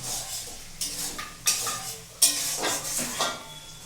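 Ghugni cooking in a pan while being stirred, a low sizzle broken by several sharp scrapes and clinks of a spoon against the metal, close and fairly loud.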